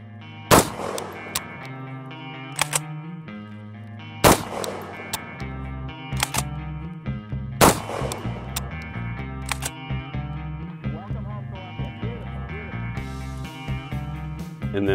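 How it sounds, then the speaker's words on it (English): A BRN-180 rifle chambered in 7.62x39 fires single rounds: several loud, sharp reports spaced a few seconds apart, with handling clicks between them. "I just switched it back and shot these rounds"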